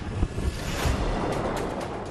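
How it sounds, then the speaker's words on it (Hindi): Roar of Arabian Sea surf on the Kachchh coast of Gujarat ahead of Cyclone Biparjoy, a continuous broadband wash of waves and strong wind close to the microphone, steady and loud with no voices. "समंदर का शोर सावधान कर रहा है।"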